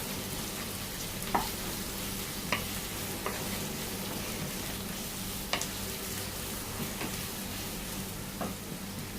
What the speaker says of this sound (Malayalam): സവാള ഒരുപാട് അങ്ങ് ബ്രൗൺ ഷെയ്ഡ് ആവണമെന്നില്ല, ഒരു പകുതി വെന്ത് കിട്ടിയാൽ മാത്രം മതി.